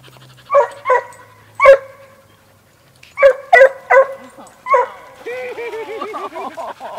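A dog that loves playing in a lake barks in sharp separate bursts, then breaks into higher yips and whimpers near the end, close and loud.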